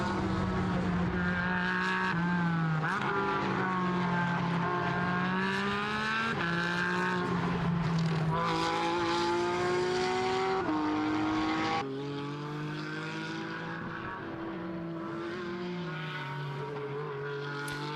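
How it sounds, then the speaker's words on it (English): Porsche 911 race cars scream past at high speed on the Misano racetrack, overlapping engine notes rising and falling in pitch as several cars sweep by one after another, loud and continuous. "It doesn't matter how many times I hear cars at high velocity around a racetrack"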